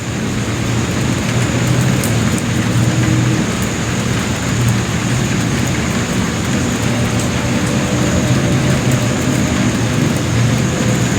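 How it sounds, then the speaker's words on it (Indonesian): Steady, heavy rain pours without pause at a graveyard at night, a loud dense wash with deep thunder-like rumble underneath and no voices. "Iya hujan, Kak, hujan."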